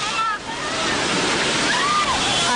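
Tsunami floodwater surging up a town's main street makes a continuous rushing, sloshing roar, loud and steady, with voices mixed in.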